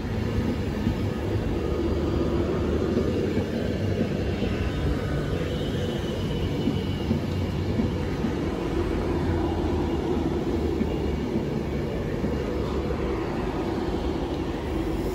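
Class 390 train 390005 City of Wolverhampton passing through Stafford station, a steady loud rumble and rolling roar that holds evenly throughout, without a clear approach or fade.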